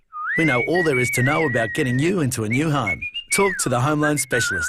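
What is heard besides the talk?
person whistling in a radio advert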